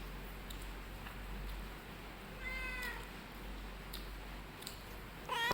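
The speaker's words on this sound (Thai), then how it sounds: "แมว" A cat meows in a short rising-and-falling call near the middle, over a steady low hum and background noise, with a sharper sound at the end.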